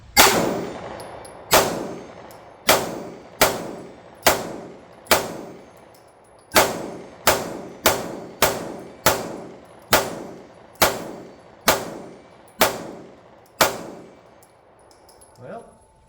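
Ruger RXM pistol firing at a steel target, about fifteen sharp shots each followed by a ringing metallic clang, spaced roughly a second apart in an uneven rhythm, loud and close with no talk.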